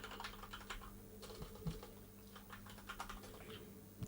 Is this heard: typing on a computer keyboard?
yes